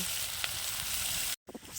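Steady hot-oil sizzle from small river chiti crabs frying in a pan, which cuts out to brief silence near the end and then returns as a few softer crackles.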